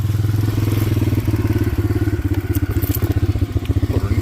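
A 150cc Chinese ATV engine idles with a steady, loud pulsing chug, then blips unevenly as the quad pulls away, with a few clunks and rattles near the end.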